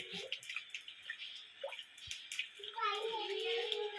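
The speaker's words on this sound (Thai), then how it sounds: "ตอนนี้สลินเพิ่นกำลังล้างมันล้างมันหนึ่ง" Washing something in water, with drips and splashing trickles that grow into a steadier running wash near the end, close by, while people, including a child, talk over it.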